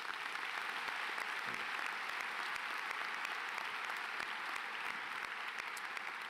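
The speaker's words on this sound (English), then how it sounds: "Please give them all another round of applause." Audience applause at a Southridge High School graduation ceremony in 2018: steady, dense clapping from a large crowd that holds evenly throughout.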